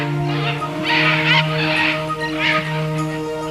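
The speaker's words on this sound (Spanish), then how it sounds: "los pájaros saludan con un ruido ensordecedor la llegada del nuevo día" Birds in the Manu rainforest of Peru call loudly at dawn, raucous bursts of calls rising and falling over a steady droning background, with no voices.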